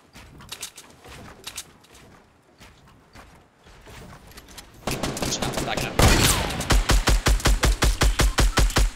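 Gunfire from a Fortnite battle royale match, with scattered shots under excited players' talk, then a loud burst and a steady rapid run of evenly spaced shots near the end.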